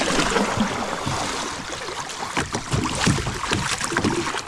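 Kayak paddles dip and pull through the water of the Buffalo River, giving repeated splashing strokes over a constant wash of moving water and wind rumble, fairly close.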